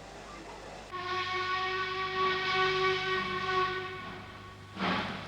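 LNER A4 steam locomotive in wartime black sounding a long, steady whistle with rich stacked tones, held loud for several seconds before cutting off, followed by a short burst of exhaust or steam.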